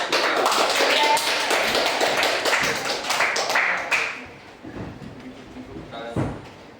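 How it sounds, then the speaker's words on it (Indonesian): Students in a classroom applaud a presenting group with brisk, dense clapping for about four seconds. The clapping then fades into quieter room noise and a few scattered claps. "Beri tepuk tangan untuk kelompok 3."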